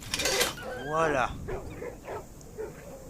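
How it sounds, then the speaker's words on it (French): A wolf in the audio game A Blind Legend lets out a wavering, whining howl between short sharp barks, heard close and fairly loud. "On dirait des chiens, mais en fait, c'est pas des chiens."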